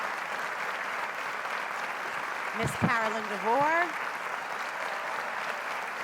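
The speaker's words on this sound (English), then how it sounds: "Let's give a round of applause for our honorees." Steady applause from an audience at an awards ceremony for honorees, with a speaker's voice reading names over the clapping.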